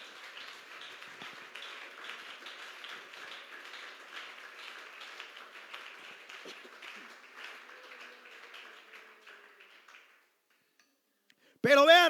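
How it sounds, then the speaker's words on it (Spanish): A church congregation applauds, a dense patter of many hands that stays fairly faint and steady for about ten seconds, then stops briefly before a voice starts speaking. "¿Cree que le puede dar un fuerte aplauso al Señor Jesucristo?"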